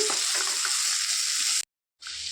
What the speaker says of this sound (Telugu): ఇప్పుడు ఇందులోనికి పొట్లకాయ ముక్కలు వేసేసుకోవాలి చక్కగా కలిపేసుకోవాలండి